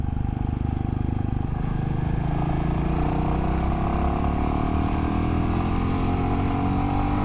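A Royal Enfield Classic 350 motorcycle cruising along the Arkansas Pig Trail gives a steady engine drone that rises slightly in pitch, heard close up over road and wind noise, with no talking.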